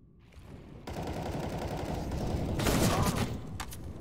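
Rapid bursts of video game gunfire rattle out as a dense, continuous volley, growing louder midway and then easing, with a few sharper cracks near the end; a voice murmurs faintly underneath.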